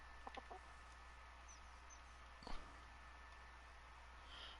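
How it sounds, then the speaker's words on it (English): Baby chickens in the video game Life World give a few faint, quick chirps and clucks over a steady low hum, with a soft thump midway. "Oh yeah, the new baby chickens."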